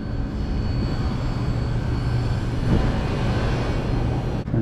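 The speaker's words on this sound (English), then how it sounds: "the blower wheel's running" HVAC blower wheel runs with a steady, loud low rumble and a dense whooshing airflow, constant throughout, with a brief thump near the end.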